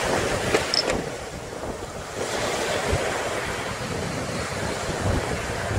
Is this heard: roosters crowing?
no